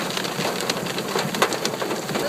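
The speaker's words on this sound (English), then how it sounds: "Now it's raining a little bit more, hailing less." Rain mixed with melting hail falls steadily outside Silver City, New Mexico, a dense continuous patter with scattered sharper drop and ice impacts, close by and without voices.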